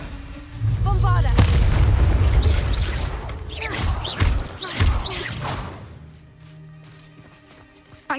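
A Bombarda explosion spell cast in Hogwarts Legacy, heavy booming blasts and rumbling debris rolling through the first half alongside a spoken incantation and game voices, then fading to a quieter low hum.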